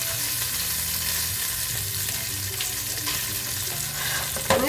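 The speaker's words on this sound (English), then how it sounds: "And this is up on high, so it's a fast, hot cook on the bacon." Bacon fries fast on high heat for a lamb stew, a steady, loud, close sizzle that stays constant throughout with no voices.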